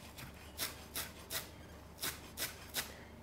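A knife chops fresh dill finely on a board, six or seven soft rhythmic cuts close by and fairly quiet, with no talking.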